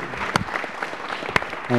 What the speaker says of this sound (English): I thought we'd give him a round of applause for his service